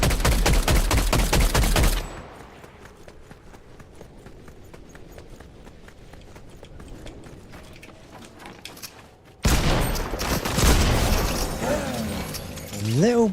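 Rapid bursts of gunfire from bots being shot in Fortnite, loud and dense at the start, thinning to faint scattered shots, then swelling into heavy firing again near the end.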